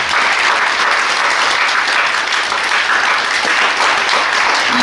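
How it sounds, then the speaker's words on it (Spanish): Sustained, dense applause from an audience at an academic humanities colloquium panel, steady and loud throughout without a break. "Les pido un aplauso para nuestros ponentes."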